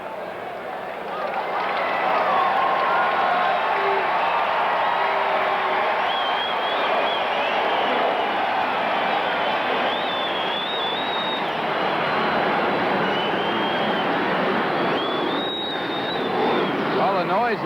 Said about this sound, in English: the noise of the crowd drowning out the airplanes flying over